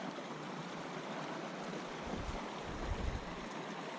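Steady broadband rush of Castle Creek running in Great Sand Dunes National Park, heard outdoors with wind buffeting the microphone and a faint low rumble toward the end; no voices.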